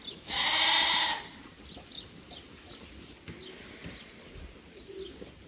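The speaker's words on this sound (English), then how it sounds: "we've got 120 ewes, and we've got about 200 lambs" A single loud bleat from a sheep or lamb among a farm flock of ewes and lambs, close by and lasting about a second, followed by quiet outdoor ambience with faint bird calls.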